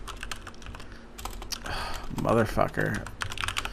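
Rapid clicking keystrokes on a computer keyboard, with bursts of fast typing and a short pause, close to the microphone, while a man swears once over it.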